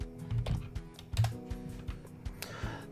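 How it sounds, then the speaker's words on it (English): Typing a script on a computer keyboard, heard as irregular bursts of close key clicks and taps with short pauses between them, fairly quiet, with no speech. "So I'm going to type this script over here."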